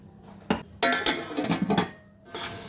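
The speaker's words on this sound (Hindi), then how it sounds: "अब थोड़ा सा पानी डालेंगे ताकि मटर और आलू हमारे गल जाएं।" Water pours into a cooking pot of peas and potatoes being made into yakhni matar pulao, a splashing rush lasting about a second after a short clink, then a quieter trickle.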